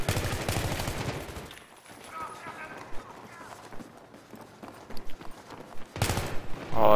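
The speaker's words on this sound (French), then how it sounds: "Alors, ça tire par là-bas." Scattered gunshots from the video game Battlefield 3 crack in short bursts amid game background noise, with someone speaking over the opening and closing moments.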